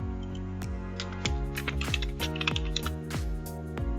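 Someone types steadily on a computer keyboard, a quick run of light clicks and taps over a few seconds against a steady background hum.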